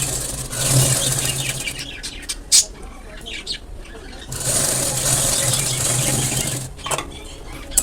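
A sewing machine stitches the neckline of a Punjabi dress, whirring nearby in two steady runs with a quieter gap and a few clicks between them.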